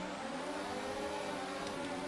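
F1 race car engine in a video game, held at high revs on the grid at Silverstone before the start, a dense, steady, loud whining roar with no speech.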